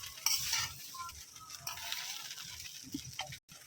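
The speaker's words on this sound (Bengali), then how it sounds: "এখন এটাকে উলট পালট করে নাড়িয়ে চাড়িয়ে" Flattened-rice pulao with chopped coriander is stirred and tossed in a pan, producing soft repeated scraping and shuffling with a faint sizzle underneath, fairly quiet and close, and a brief clink near the end.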